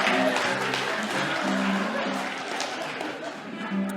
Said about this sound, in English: Come on, give a clap for Jesus.